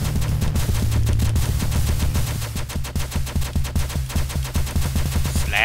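A rapid-fire attack in Momodora sounds as a fast, steady stream of sharp shot-like pops over a low droning background, continuing without a break for several seconds.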